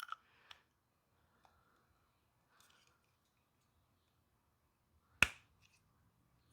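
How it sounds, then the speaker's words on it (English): A bulb socket snaps into the side marker housing of a first-generation Scion xB, ending in one crisp, close click after several faint ticks in an otherwise quiet space. "So it'll pop in just like that, and then you'll twist to tighten."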